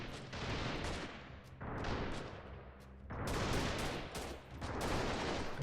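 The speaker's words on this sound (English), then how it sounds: "Whoa, that's a lot of gunfire." Heavy gunfire in the PC war game Freeman Guerrilla Warfare roars in dense, overlapping bursts, rising and falling in waves, loud and continuous with no talk.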